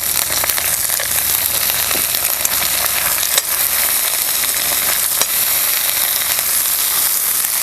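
Ridge gourd tipped into a pan of frying onion, garlic and coriander gives a loud, steady, close sizzle that never lets up, with faint stirring clicks scattered through it and no voices.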